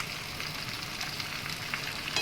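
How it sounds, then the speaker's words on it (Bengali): Tomato paste hits spices frying with turmeric and Kashmiri red chilli powder, giving a steady soft sizzle that runs evenly without pause, close and fairly quiet. "এবার আমি একটু টমেটো বাটা দিয়ে দিচ্ছি।"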